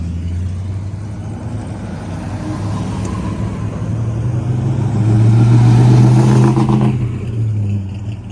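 A Plymouth Superbird race car rolls back onto the track at an Aero Warriors reunion, its engine note rising from a low rumble to a loud, close pass before easing slightly.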